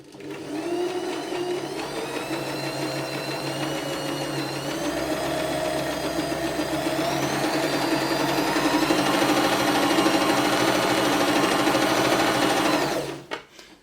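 A Janome (New Home) My Style MS22 sewing machine stitches a buttonhole pattern with presser foot F, its motor whirring loud and close in a steady, rapid mechanical hum that runs continuously before cutting off abruptly at the end.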